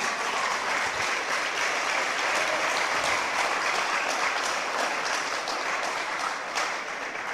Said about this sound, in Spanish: Dale una fuerte ofrenda de aplausos al Señor.